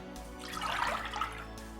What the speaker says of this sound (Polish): Na początek do garnuszka wlewam wodę.